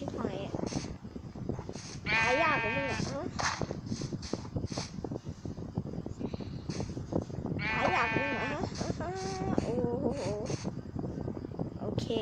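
Sheep in a video game bleat loudly twice, each a wavering multi-note cry, over constant busy game noise and clatter, with a voice talking throughout.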